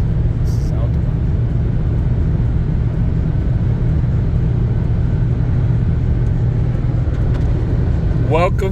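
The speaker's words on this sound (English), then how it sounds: "Welcome to the German Autobahn, look how fast we're moving." A car travelling fast on the German Autobahn, with a steady loud rumble of road and wind noise from inside the cabin that runs throughout, and a voice over it.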